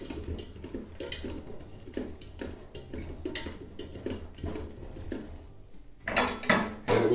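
Tomatillos being tossed into the metal pot of a Ninja Foodi for salsa verde, a string of close clattering knocks and scrapes against the pot, ending in a louder tumbling rattle, with no voices.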